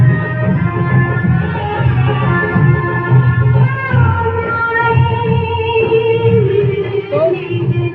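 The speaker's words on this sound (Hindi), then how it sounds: "लेकिन ये डीजे बज रहा है" Loud DJ music booms at a wedding house in a village, with heavy low bass thumping and a muddy, distorted blur of melody, near and overpowering, with voices mixed in.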